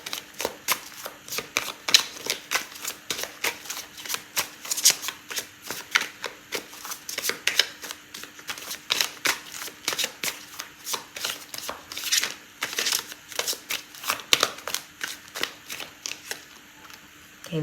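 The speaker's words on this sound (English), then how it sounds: "I'm gonna pull out a card for timing" Tarot cards are shuffled in quick, crisp bursts of riffling and slapping, close and fairly quiet, with a faint steady hum underneath.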